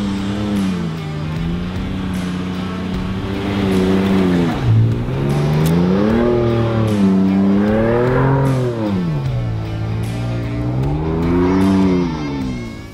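The engine of a Ford Ranger Raptor revs loudly and repeatedly, pitch sweeping up and down in smooth waves as it climbs and falls through the gears, close and clear with no talk.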